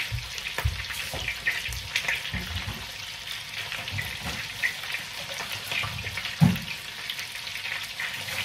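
Colourful mixed vegetables fry in a pan in a home kitchen, giving a steady soft sizzle with occasional clatters and stirring noises.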